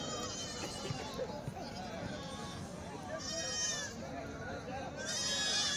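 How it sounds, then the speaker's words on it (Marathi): Several goats bleat repeatedly amid a busy crowd at a goat market in Yenegur, Umarga taluka, with people talking throughout and animals calling out near and far. "अशा प्रकारे बोकड बघा"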